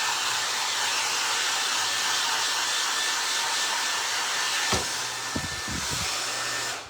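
A hair dryer blows loud and steady for several seconds, drying a craft project, with a few brief low bumps before it cuts off at the end.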